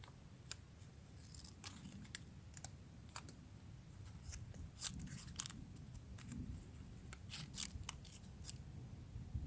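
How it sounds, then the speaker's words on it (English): Scissors snip through packaging during an outdoor unboxing of a Camillus adventure pack: a series of sharp, crisp cuts at an irregular pace, fairly close, over a steady low rumble of background noise. "Let's see what we got with the scissors."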